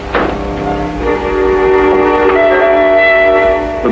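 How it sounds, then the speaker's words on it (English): Boat train running to Dover, a steady loud rumble of rail cars with a sustained horn-like tonal blare across most of the stretch, no voices. "The boat train took us to Dover."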